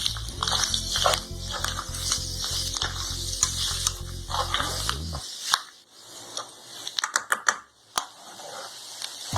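Tuna cutlet mixture with garam masala and pepper powder being stirred and mixed by hand, a run of quick scraping clicks against the pan over a steady sizzle, then sparser, sharper taps as the mixing slows.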